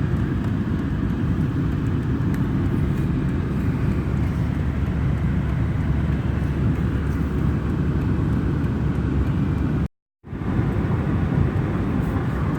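Truck towing a totaled Ford Mustang on the road, a steady loud rumble of engine and road noise that holds for about ten seconds, breaks off briefly and then resumes.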